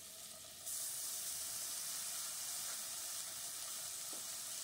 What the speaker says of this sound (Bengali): আলু আর গাজরটা একটু ভাজা ভাজা করে নিয়ে একটু গ্যাসটা কমিয়ে দিয়ে ভাজতে হবে